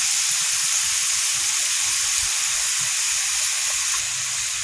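Garden vegetables sizzling in a hot pan as they fry, a loud, steady hiss with faint crackles running continuously and close up, without any talk.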